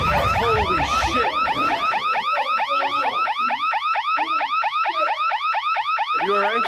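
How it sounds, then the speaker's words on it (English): Loud electronic car alarm overlaid on paranormal footage, a rapid repeating warbling whoop cycling steadily without pause, dominating the scene alone. "I know that alarm's an overlay."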